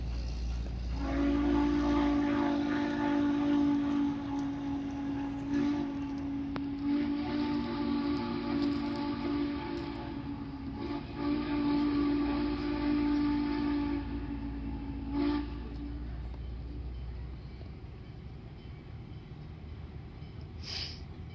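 Norfolk & Western 611 steam locomotive approaching on a railroad excursion, with a loud, steady harmonic whistle held over a continuous rumbling train roar, then the sound fading into a lower rolling rumble.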